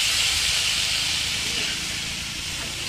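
Wild leafy greens (patri bhaji) sautéing in a pan with garlic and chilli give a steady, close hiss and sizzle that holds at an even level throughout, with no voices over it.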